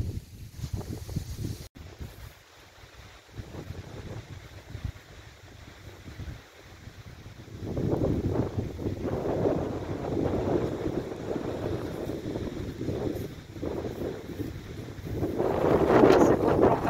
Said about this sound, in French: Il y a salement du vent